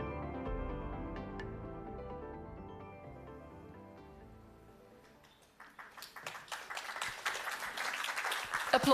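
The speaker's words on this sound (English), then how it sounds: "Applause, indeed." Audience at a climate conference in Stockholm breaks into applause after sustained musical tones fade out, the clapping starting faint and swelling to a steady, dense roar.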